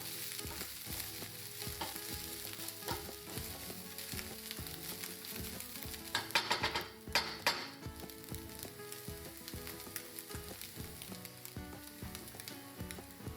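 Garlic fries steadily in a hot pan, a continuous close crackling sizzle with occasional stirring noises and a louder flare midway.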